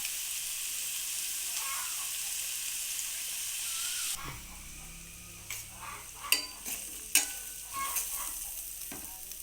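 Beetroot frying in oil with turmeric and salt, a steady hiss of sizzling that gives way to a series of sharp spoon scrapes and stirring knocks against the pan, close up with no voices.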